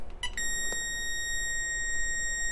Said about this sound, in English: Let's just turn the beeper on so you can hear it.